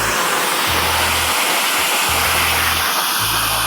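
A 3,000 to 3,500 PSI power washer rinses a stucco and brick house exterior, producing a loud, continuous hissing spray with a low pump hum that pulses on and off in regular cycles.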